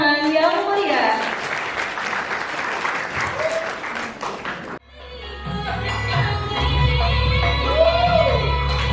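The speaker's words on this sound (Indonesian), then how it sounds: "Beri tepuk tangan yang meriah." Audience applause at a university seminar in Banyuwangi, greeting a gandrung Gurit Mangir dance performance: a steady wash of clapping from a crowd that dips midway, then resumes with a low hum and a faint melodic tone underneath.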